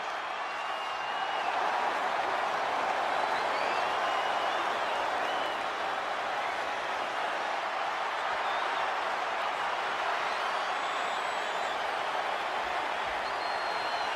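Dense, steady roar of a huge arena crowd cheering and applauding at WrestleMania in WWE 2K25, a continuous wash of noise held at full level throughout with no pauses.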